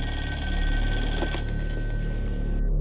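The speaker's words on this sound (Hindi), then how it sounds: "मैं एक फोन घुमा दूं ना?" After a number is dialed, a telephone rings loudly on the line with a bright, sustained bell tone that cuts off partway, leaving a low hum underneath.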